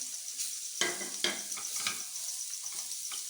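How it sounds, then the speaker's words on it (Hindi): A spoon scrapes and stirs samosa filling of cabbage and spices in a pan, giving a few soft scraping strokes over a faint, steady sizzle. "और अच्छी तरह मिक्स करते हैं।"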